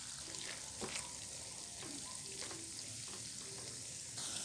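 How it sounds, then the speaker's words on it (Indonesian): Ground spice paste sautés in coconut oil in a pan, a soft, steady sizzle and fry with occasional light stirring scrapes and clicks, fairly faint and close, with no talk. "Kita tumis bumbu yang tadi dihaluskan."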